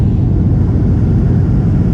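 Steady low roar inside a Surinam Airways airliner cabin during a banking turn on landing approach over jungle, a continuous broadband engine and airflow rumble with no talk.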